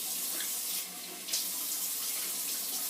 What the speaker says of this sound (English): Now we'll perform just a rinse off.